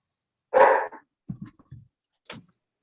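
Dogs bark during a gathering about climate justice activism: one loud bark, then a few short, softer yips and a final brief bark, close by with no talking over them.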